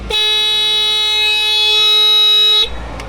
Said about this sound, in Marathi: हॉर्न आहे इथे या हॉर्नला वायर घेतली इथं लावली हे बटन दाबलं